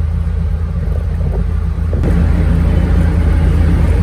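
A car travels a highway in Cairo, Egypt, near the airport, giving a steady loud low rumble of engine and road noise with wind hiss throughout and no talking.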